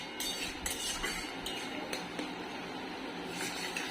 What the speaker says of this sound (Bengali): ভালো করে এটা কষে নিই।